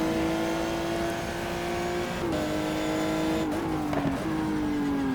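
A GT1 race car, the 550, driving a track in the GTR2 racing game: a loud, steady engine drone that drops in pitch at a few gear changes, alone without talk.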